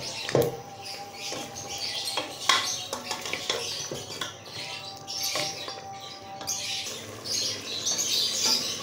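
Mutton being bhuna-fried in a pot for a Peshawari namkeen gosht, with repeated metal spoon scrapes and clinks against the pot over a soft background sizzle, close and irregular with no talk.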